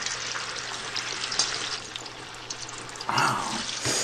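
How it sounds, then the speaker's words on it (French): Sugar caramelizing in a hot pan with lemon and orange for crêpe Suzette gives a continuous hissing sizzle, and a louder bubbling burst comes near the end. "Tu saupoudres de sucre le fond d'une poêle chaude. Quand il caramélise, ajoute le citron,"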